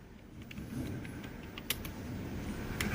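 Rapid keystrokes tapped out on a computer keyboard while entering names into an Excel spreadsheet, a steady run of light clicks over a low room hum, with no talking.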